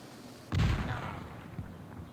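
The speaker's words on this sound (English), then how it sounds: "We've defeated their defenses with 2 well-placed cannon shots." A single deep cannon boom erupts after a brief quiet in a film, followed by a rumbling decay and a faint second thud.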